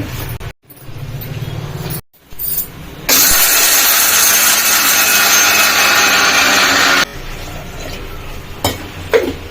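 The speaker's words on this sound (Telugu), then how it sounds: "ఇప్పుడు మిక్సీలో అయితే వేసేస్తాం" A mixer grinder grinds roasted gram and salt for chutney, whirring loudly and steadily for several seconds after brief handling clatter, then stopping.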